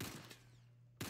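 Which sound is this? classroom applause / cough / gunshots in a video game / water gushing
gunshots in a video game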